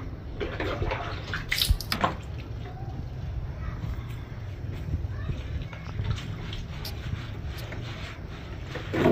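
Water running and splashing while a cat is bathed, a steady close wash of flowing water with brief splashes, under someone talking.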